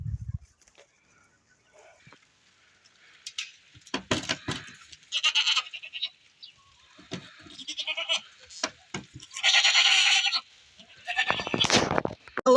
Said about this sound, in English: the goats are fully back to health